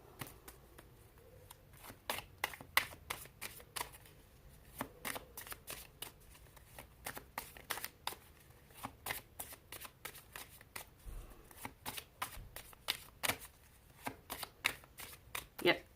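A deck of cards is shuffled in quick, crisp riffling bursts that repeat in a steady rhythm, close and fairly quiet, with faint talk in the background.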